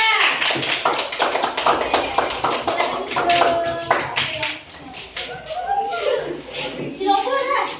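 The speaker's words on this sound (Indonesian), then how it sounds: "tepuk tangan untuk kelompok dua" Children in a classroom applaud a group of classmates, a dense burst of clapping running throughout with kids' voices and chatter mixed in.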